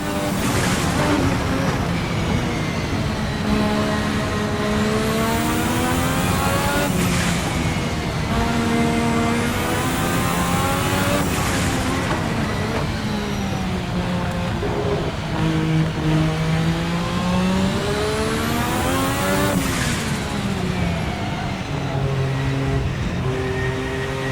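A 1,200HP 1986 turbocharged V6 Formula 1 car screams through a lap, its engine rising in long climbing sweeps, dropping on downshifts and climbing again, loud and sustained with no voices.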